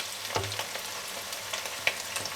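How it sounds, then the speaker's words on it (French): Beef stir-frying over high heat with mandarin sizzles softly in a pan, with scattered clinks and scrapes of stirring across a steady hiss and no talking. "On fait sauter la viande à feu vif."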